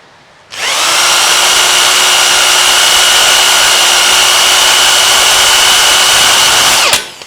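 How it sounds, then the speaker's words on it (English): A power drill whirs up suddenly and runs at a loud, steady high-pitched whine for several seconds while drilling out an old rivet, then cuts off abruptly with a small clunk. "Drill, baby, drill."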